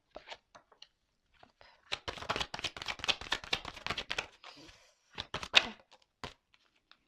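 Playing cards being handled and shuffled in a burst of dense riffling crackles, close and fairly quiet, with a few isolated taps and flicks before and after and a second short riffle near the end.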